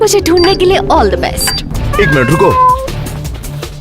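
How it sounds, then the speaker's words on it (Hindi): A cat meows several times in rising, wavering cries, close by, while a person talks over and between the calls. "हाँ, ये बिल्ली की आवाज है।"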